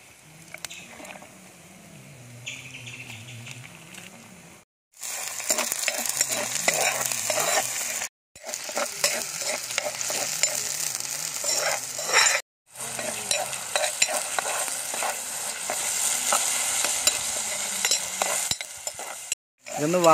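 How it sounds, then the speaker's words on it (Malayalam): Kanthari chilies fry in a pan while being stirred, a bright continuous sizzle with repeated spoon scrapes, broken by a few brief silent gaps. "ഇതൊന്ന് വാടി മൂത്ത് വരുന്നവരെ നമുക്കൊന്ന് ഇളക്കി കൊടുക്കാം."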